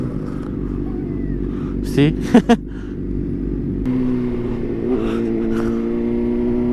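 A 2004 Honda CBR 600RR motorcycle engine runs steadily close by with a low, continuous drone that rises a step partway through. A brief spoken word and some short whistle-like sounds occur over it.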